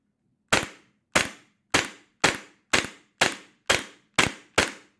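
An airsoft gun fires nine shots in a steady, quick rhythm, about two per second, through an Acetech AC6000 chronograph, each a sharp close crack with a short decay and no voices.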